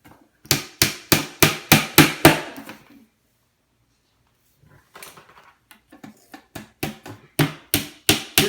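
Brass tacks are hammered into a wooden helmet stand in two bursts of sharp, evenly spaced blows, about seven strikes then a pause before another run of quicker taps, close and loud.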